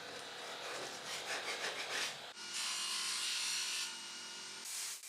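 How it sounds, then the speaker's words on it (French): Plastic veneer is sanded off a high-density panel, quiet rhythmic rubbing strokes at first, then a steadier abrasive grinding that runs for a couple of seconds, stops, and briefly resumes. "je vais poncer ça pour voir si ça s'enlève"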